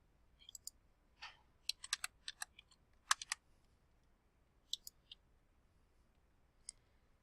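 Login details typed on a computer keyboard, a scattered run of light, close key clicks in short bursts with pauses between, alone in a quiet room.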